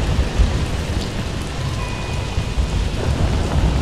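Rain pours steadily on a rainy night as thunder rumbles low beneath it, a dense, loud wash of drops with no voices.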